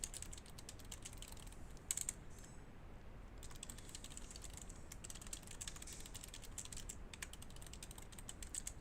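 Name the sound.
typing on a computer keyboard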